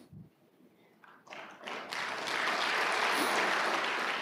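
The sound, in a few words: congregation applause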